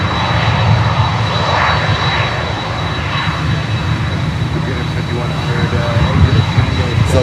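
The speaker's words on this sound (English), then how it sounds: "you can hear Latam basically, the engines of the CF6 engines" A LATAM jet with CF6 engines runs at Miami airport, producing a steady, loud, broad engine roar with a thin high whine held throughout, while someone talks over it.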